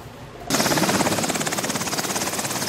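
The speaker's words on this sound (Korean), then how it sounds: "헬기를 이용해 작전 지역으로 이동해서 공중 침투를 해야 합니다." A military helicopter carrying a special forces team bursts in suddenly after a quieter moment, then holds a loud, close, rhythmic rotor chop.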